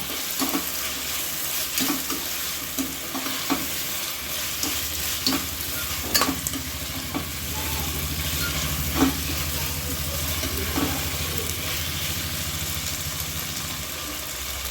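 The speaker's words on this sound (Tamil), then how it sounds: "தக்காளி கொஞ்சம் நல்லா வதங்கட்டும்." Tomatoes sautéing in a pan for Tamil-style chicken gravy, a steady close sizzle and fry with occasional stirring scrapes and clinks throughout, no talking.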